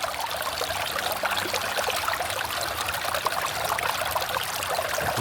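Water runs steadily and loudly through a gold sluice box over rib matting, a continuous broadband rushing trickle with no talk, at an outdoor prospecting site.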